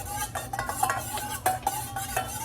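A spoon clinks and scrapes around a bowl while beaten eggs are whisked up for an omelette, a quick rhythmic series of close taps and scrapes with no talking.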